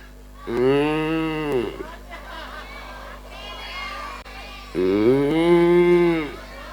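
Two long, loud mooing calls imitate a cow, voiced by a preacher at a sermon in Subang. A low crowd murmur fills the gap between the calls.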